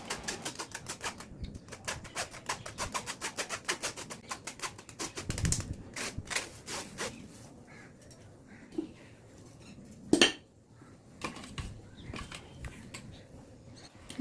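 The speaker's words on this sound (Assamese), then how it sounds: "ভালদৰে চামুচেৰে লৰাই লৰাই মই সেকি ল'ম।" A spoon clatters and scrapes steadily against a pan while gravy is stirred and roasted for butter paneer, with rapid metallic ticks at first, then sparser clinks and one sharp knock.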